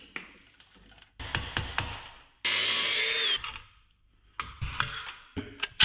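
A power tool cuts out bosses on a clutch pedal assembly. It starts with short bursts, holds one sustained high-pitched grinding whir, then breaks into more short bursts and clicks up close, with no talking.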